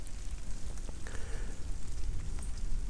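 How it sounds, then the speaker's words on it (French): Light rain beginning to fall outdoors, a soft steady patter and hiss of drops spread evenly through the whole stretch, fairly quiet and with no voices. "Là, j'ai une petite pluie qui commence à tomber"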